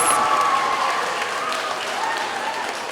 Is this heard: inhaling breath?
no